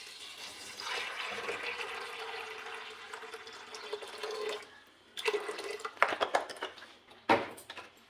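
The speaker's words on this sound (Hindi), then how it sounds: "साथ ही हम इसमें ऐड करेंगे पानी।" Water poured from a glass into a pressure cooker holding soaked black chickpeas, a steady splashing pour for a few seconds, then stopping and followed by clinks and short sloshes in a home kitchen.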